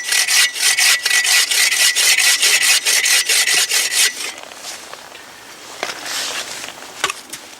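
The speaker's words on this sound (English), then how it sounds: "Get one more little piece cut off here." A hand saw cuts a small piece off wet wood in the snow, with fast rhythmic rasping strokes for about four seconds, then quieter scraping and handling noises.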